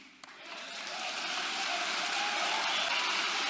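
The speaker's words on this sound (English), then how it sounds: "Why are you all applauding about that?" Sustained audience applause from a large crowd, rising quickly after a brief sharp clap and holding steady as a dense, rain-like wash of clapping filling the room.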